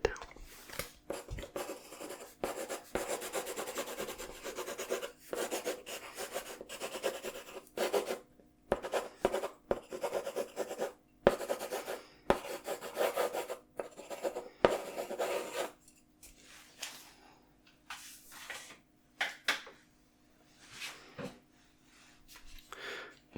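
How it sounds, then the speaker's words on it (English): A pen scratches and rubs on paper in soft, close strokes that come and go, with quiet whispered talk over part of it, then falls quieter toward the end. "I'll just write it down."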